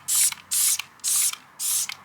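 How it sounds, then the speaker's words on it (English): Cleaner is sprayed onto a brand new car tyre in four bursts of about a quarter to half a second each, evenly spaced, hissing loudly and close by with quiet gaps between. "I'm going to be spraying on the tyre, scrubbing it and wiping it off several times"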